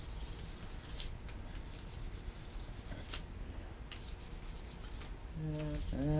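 Fine 2000-grit abrasive rubbed around the inside of a wooden spoon bowl, a soft, continuous scratchy rasp with repeated strokes, ending in a brief tonal sound.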